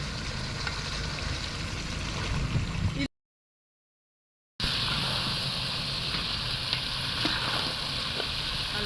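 Mutton sizzles in oil with masala for a mutton gravy, a loud, constant frying hiss with stirring scrapes, broken by a second-and-a-half of dead silence midway.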